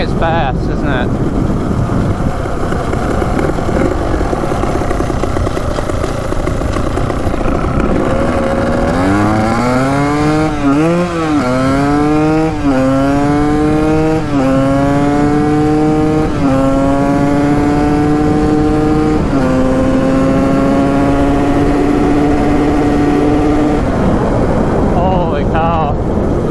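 A fast dirt bike roars at full throttle while ridden, its engine climbing through rising revs and gear changes over wind noise, loud and close throughout with a voice briefly over it.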